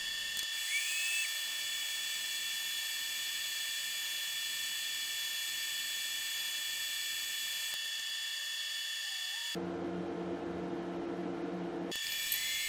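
Micro mesh pads, running from about 1500 to 3600 grit, sand the inside of an epoxy money ring, giving a steady, high, whining hiss that holds throughout and shifts in tone toward the end.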